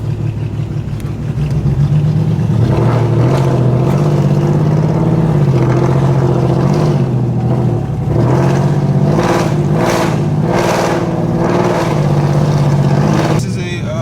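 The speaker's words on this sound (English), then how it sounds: "it's a 2012 Camaro. Yeah, but somehow it still makes the most noise." A 2012 Chevrolet Camaro driving with a loud, droning engine whose pitch rises and falls as it accelerates, heard from inside the car with someone talking over it.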